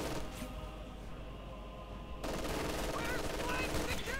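Game battle from Company of Heroes 2, with MG42 machine guns set up in a ruined village centre: dense, continuous automatic gunfire and battle noise, rising louder midway, with a commentator's voice running underneath.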